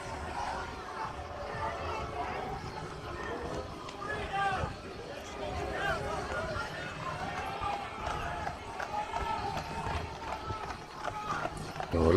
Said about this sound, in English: Oh, look at the horses